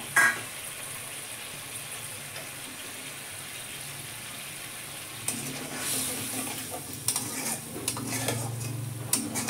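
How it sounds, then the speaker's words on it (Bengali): A spice paste of onion, tomato and water-mixed ground spices is stirred in a pan for a fish curry. A quiet sizzle comes first, then close scraping stirring strokes and clinks take over during the second half. "এবার মশলাগুলো একটু কষে নেব।"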